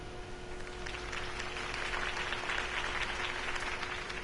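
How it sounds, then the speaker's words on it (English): A video game crowd in Batman claps steadily in sustained applause after a political campaign speech, a dense patter of many hands that swells slightly and holds, with a faint tonal hum underneath. "could have heard that applause"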